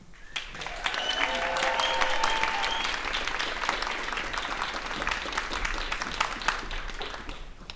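An audience at an indie orchestra concert applauds warmly as a speaker is welcomed onto the stage, with dense, sustained clapping at steady loudness throughout and a few cheers early on.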